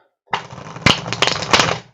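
A deck of oracle cards being shuffled by hand, a brief burst of riffling and snapping card sounds after a short silence, with a few sharper slaps close by.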